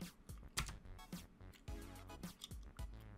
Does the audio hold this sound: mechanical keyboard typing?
yes